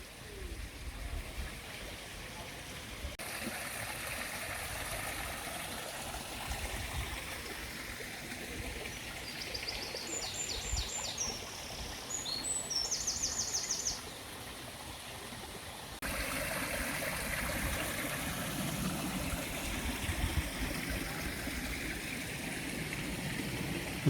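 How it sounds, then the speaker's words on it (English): A succession of small waterfalls and streams on a countryside walk makes a steady rushing, trickling flow that continues throughout, with a brief burst of high chirping partway through that could be birds. "we do get to see this nice succession of falls and streams"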